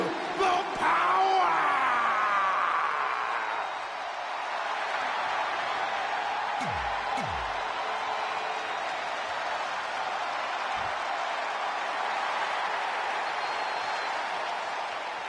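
A game arena crowd in WWE 2K20 cheers and applauds continuously at moderate level, with shouts and whoops near the start before settling into a sustained wash of clapping and crowd noise.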